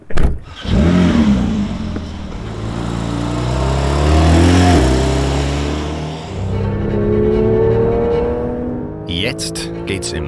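Porsche 992 GT3 Manthey with 510 PS on a race track, its engine revving up through rising gears, loud and close, with someone talking over it.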